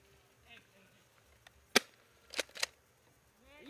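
Airsoft guns firing outdoors on a kill deck: a few sharp, short snapping shots, one alone and then a quick pair, separated by quiet gaps, with faint voices around them.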